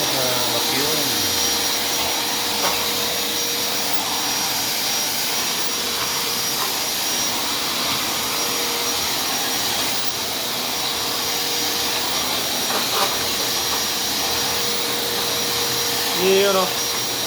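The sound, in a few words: Black & Decker vacuum cleaner running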